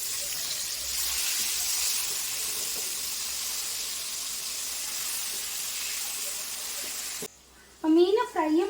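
Fish frying in a pan gives a steady, close sizzle and hiss that fills most of the clip, then cuts off as a voice begins speaking near the end.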